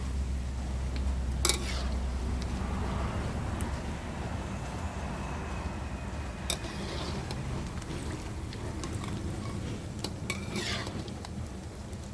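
Fried rice cooking in a pan, a low steady sizzle and hum with scattered metallic clinks and scrapes of a spatula scooping it up, fairly quiet.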